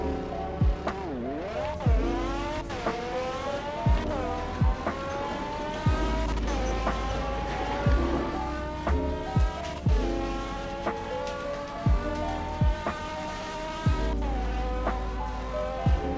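Tuned Ford Fiesta drag car in a Roblox racing game, engine revving hard and climbing through gears with repeated upshift drops, a loud continuous synthetic whine from start to finish, no speech.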